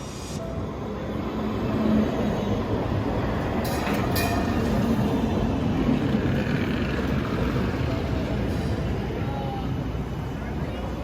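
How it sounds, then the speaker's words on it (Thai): A tram rumbles past close by on an Amsterdam street, its steady rolling clatter and faint wheel squeal filling the street, with voices talking over it. "รถรางกำลังมาค่ะ ต้องระมัดระวังนะคะ รถรางวิ่งผ่านเส้นนี้ค่ะ"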